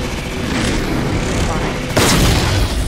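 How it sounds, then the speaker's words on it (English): A Halo 4 sniper rifle shot booms out in the middle of loud, dense game noise, a sudden heavy crack that carries on into a sustained rumble. "I'm sniping up here"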